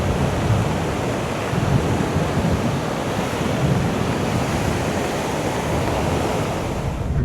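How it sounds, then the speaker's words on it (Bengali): Heavy water pouring down Bhatinda waterfall in the rain, a dense, continuous roar with wind buffeting the microphone, steady and loud with no voices. "জলের প্রবাহ প্রচুর পরিমাণে রয়েছে এই ভাটিন্ডা ওয়াটারফলসে।"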